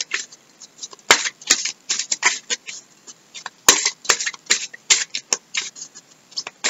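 Cards being shuffled for a five-card cross tarot spread: a dense run of soft, papery riffling and patting, close and moderately loud, with a few sharper slaps and no talking.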